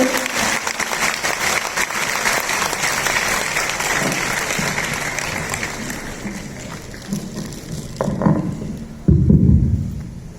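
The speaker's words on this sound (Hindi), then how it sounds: "एक बार फिर जोरदार तालियां हो जाए" A crowd at an evening event claps loudly and continuously, the dense applause thinning near the end before a few louder bursts and some background noise take over.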